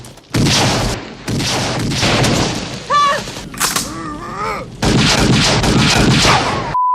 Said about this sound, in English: Then the gunshots.